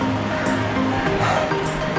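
Waves rolling onto Kovalam beach in Kerala, India make a loud, close, continuous roar of surf and wash, with broad rushing swells rising and falling over the short stretch.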